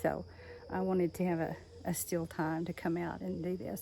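Cicadas drone faintly outdoors on a still autumn day in Texas, a thin high buzz running under a close voice talking throughout.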